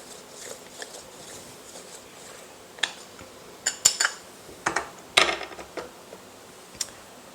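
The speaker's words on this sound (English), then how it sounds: "you just simply put your garlic in and twist it, and it mashes it all for you" A garlic press twisting and mashing garlic cloves: scattered metallic clicks, creaks and clinks that cluster into a busier run of sharp ticks midway, close and fairly quiet.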